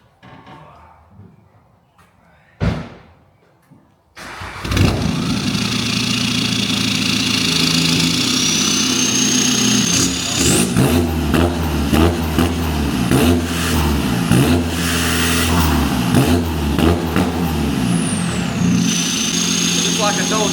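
A straight-piped Volkswagen Scirocco 2.0 TDI diesel cranks and fires after a short bang, then settles into a loud, raspy idle. Repeated revs rise and fall over it, and a voice is audible early on.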